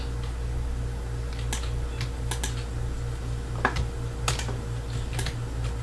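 Loud computer mouse clicks during a World of Warcraft gaming session: sharp, scattered, irregular clicks up close over a steady low electrical hum, with no talking.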